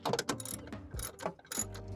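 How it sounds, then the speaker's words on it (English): Close ratcheting clicks come in quick uneven bursts as a hose clamp is tightened during AC repair on a GMT800 truck, with no talking over them. "Let me tighten the clamp."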